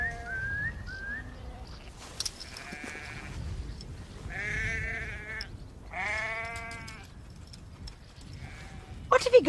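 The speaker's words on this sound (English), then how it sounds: "Some of the sheep tried to go the wrong way, but Cal soon rounded them up." Sheep bleat in short, wavering calls, several overlapping, as a herding dog rounds the flock up on a farm, mixed with soft hoof and movement noise in the open air.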